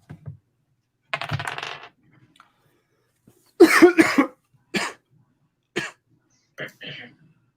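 A person coughs several times in short separate bursts, close to the microphone in a quiet room, with brief pauses between coughs and a softer throat-clearing sound early on.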